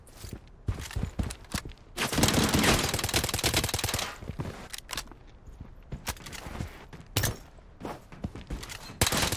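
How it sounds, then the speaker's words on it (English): Gunfire from a weapon in BloodStrike crackles in rapid bursts and single shots, loud and close, with a sustained automatic volley in the middle and footsteps between bursts. "Like my gun, it shoots by itself."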